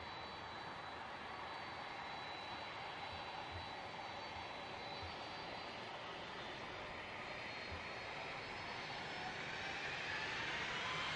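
Japan Air Self-Defense Force KC-767 jet tanker taking off, a steady loud roar of jet engines filling the whole clip and rising slightly toward the end, heard from some distance outdoors.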